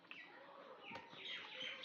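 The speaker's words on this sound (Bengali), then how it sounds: "পাখির গুঞ্জন।" Birds chirp and twitter outdoors near a home during a Bengali home lunch, with several overlapping high calls at moderate level against a steady background hum.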